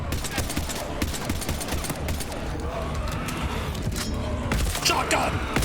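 Rapid, dense shotgun fire in the video game Mass Effect Legendary Edition, loud, overlapping blasts with combat noise running throughout, and a voice occasionally audible underneath.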